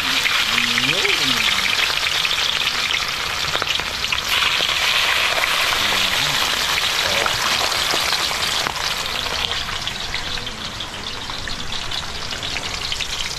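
Steady loud sizzling of dried fish (daing) frying in a hot pan, a continuous crackling hiss close up, with someone talking over it.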